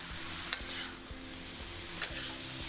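Bean sprouts and tofu with green onions and white pepper being stir-fried in a pan, a steady loud sizzle with a few scraping stirs of the spatula.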